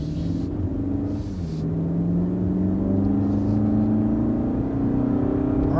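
A car accelerates with a throaty engine note that rises steadily in pitch over a low rumble. It is heard from inside the car as it picks up speed.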